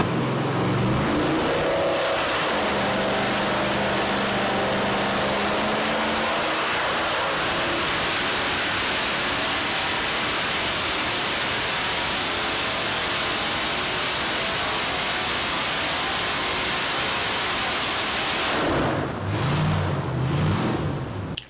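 A 5.7 liter Hemi engine with long tube headers, a Magnum intake, a manual throttle body and nitrous roars on a dyno, a loud sustained wide-open pull with a rising start and an abrupt drop-off near the end.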